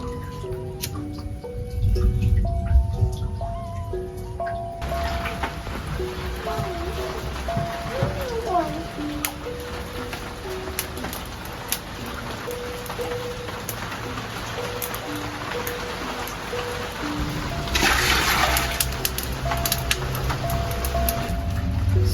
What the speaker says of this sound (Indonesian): karena di luar lagi hujan